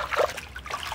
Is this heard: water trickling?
yes